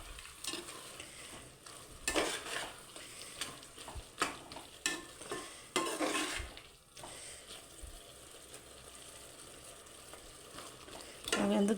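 Whole uncut mushrooms cooking in a pan for mushroom biryani, a steady close sizzle with intermittent scraping stirs and clatter of a utensil against the pan, no talk.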